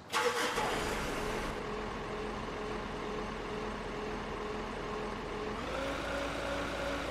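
Engine starting in the Beer Factory video game: a sharp crank at the start, then a steady mid-pitched motor idling, with a shift in tone near the end.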